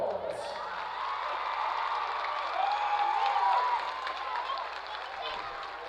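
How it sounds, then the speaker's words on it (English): A distant stadium crowd at a College Park High vs. Oak Ridge High event applauds and cheers for student representatives on the field, a steady, fairly faint wash of clapping and voices that holds for several seconds. "Please give them a round of applause."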